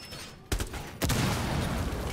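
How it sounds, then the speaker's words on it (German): Two sharp blasts half a second apart in Rainbow Six Siege, the second followed by a rolling crackle of game explosion noise. "Oh, da ist shit. Irgendwas explodiert."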